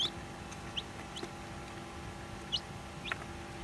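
Newly hatched native cobra cross chicks, a few short faint peeps scattered over a quiet, steady background hum with no talking.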